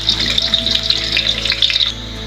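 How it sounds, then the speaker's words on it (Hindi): Medium-sized onions frying in hot oil for chana pulao give off a steady, bright sizzle with crackling bursts, heard up close with no talking, and the sizzle drops away near the end. "यहाँ पर हमारा जो ऑयल है वो अच्छे से गर्म हो चुका है और अब हम इसके अंदर प्याज शामिल करेंगे"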